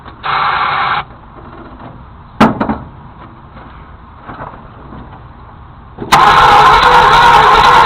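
Seized Ford Galaxie 390 engine cranking in bursts, a short starter whir, a sharp clunk, quieter gaps, then a loud sustained roar of cranking or catching near the end, close by.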